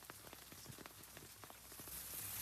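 Rain falling, a faint, soft patter of scattered drops with a diffuse wash of hiss building slightly toward the end, with no voices.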